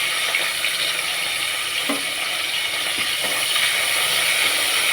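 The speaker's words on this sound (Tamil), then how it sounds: "சோம்பு பொரிஞ்சிருச்சு, கருவேப்பிலை போட்டுக்கிறேன்" Fennel seeds and curry leaves sizzle in hot oil for a crab fry, a steady, bright crackling hiss that holds evenly throughout, with a few small pops.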